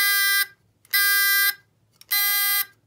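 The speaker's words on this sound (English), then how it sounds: "Space Pilot Supersonic Gun. And it says on the side it has a high-frequency resonator." Three harsh, buzzy electronic blasts from a Space Pilot Supersonic Gun toy with a high-frequency resonator, each about half a second with short gaps between, loud and close, no talking.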